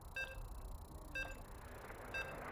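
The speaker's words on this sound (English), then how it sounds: "As you can hear the beeps, we're loading into the ace match." Three short bright electronic beeps spaced about a second apart as a StarCraft ace match loads in the Korean StarCraft League, over a low steady background hum.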